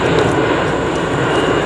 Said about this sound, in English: Sorry about that, plane flew overhead.